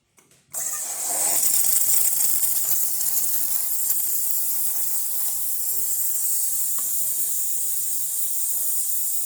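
A Saeco Pico Baristo espresso machine heats up and runs after a full service tune-up, giving a steady, loud hissing rush of steam that starts abruptly and continues unbroken, with faint low rumbling beneath.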